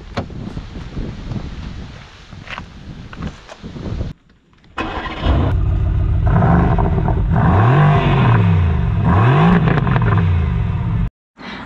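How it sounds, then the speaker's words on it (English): A Mercedes-AMG GT R starts with a loud burst, then its engine idles and revs in repeated rising and falling sweeps, close and strong, with no talk. "let's get this baby started up and hear her roar"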